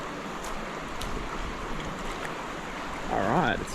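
The Cann River rushes quickly past in a soft, steady wash of flowing water heard from the bank, with a brief whistling sound near the end.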